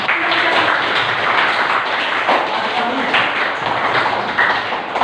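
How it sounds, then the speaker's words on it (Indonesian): Schoolchildren clap their hands together in a classroom, a dense, steady patter of many small claps lasting several seconds at close range. "anak-anak sekalian, tepuk tangan dulu"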